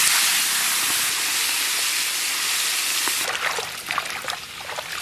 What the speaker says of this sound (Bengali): ইলিশ মাছের মাথাগুলো ভেজে নেব।